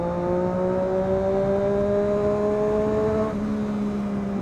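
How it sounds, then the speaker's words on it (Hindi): Triumph Daytona 675 inline-three motorcycle engine holds a steady, smooth drone with a slight pitch rise, continuous and fairly loud, with no talking. "बाकी ब्रो इस बाइक की sound is lovely, it's something else in this world. Inline 3 की साउंड इतनी प्यारी बाइक साउंड है ना इस बाइक की।"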